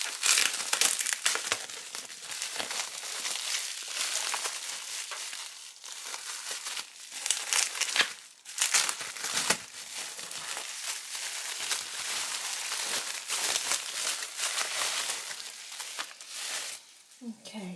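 Hands tear open a mailed package wrapped in bubble wrap, giving close, loud crinkling and crumpling in irregular bursts with brief pauses, continuing for a long stretch.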